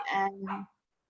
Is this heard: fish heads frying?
no